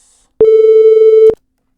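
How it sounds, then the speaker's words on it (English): A pure sine-wave test tone at an 8000 Hz sample rate sounds alone for just under a second, starting and stopping abruptly, steady and loud against silence. "there we have a second of a sine wave"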